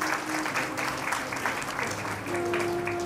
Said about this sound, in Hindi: एक बार ताली बजाओ माता के लिए।